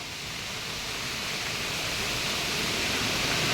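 Rushing water roars at the Hulikal ghat waterfall near Masthikatte in the early monsoon, a dense, constant hiss of falling water that grows slightly louder, with no voices.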